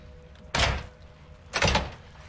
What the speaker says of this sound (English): Kicking the door.